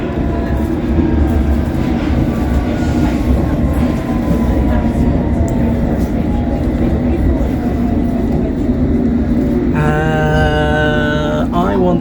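An underground train at the platform of Old Street station, a loud steady rumble with rising motor whine throughout, then screeching brakes or a tonal squeal near the end, with faint voices in the background.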